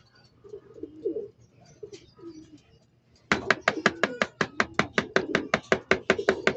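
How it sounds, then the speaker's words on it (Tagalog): Soft, low pigeon coos, then a quick run of loud, sharp, rhythmic bursts over continued cooing close by. "Marami pang mga kalapate na nagdadaanan,"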